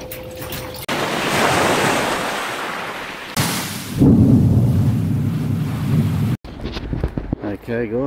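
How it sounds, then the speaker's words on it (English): Waves breaking on a rocky beach, a loud close rush and hiss of surf in two swelling bursts with heavy wind buffeting the microphone, cut off abruptly near the end by brief talking. "Oh, there's a little bit of waves coming in."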